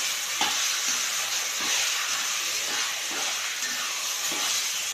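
Roasted eggplant for bharit is stirred in a hot pan with a soft continuous sizzle, while a spoon scrapes the pan in a slow repeated rhythm of roughly one stroke per second.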